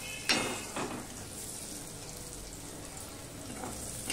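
Potatoes and carrots fry in a pan for a Bengali winter khichuri, giving a steady soft sizzle with a couple of light utensil clinks near the start.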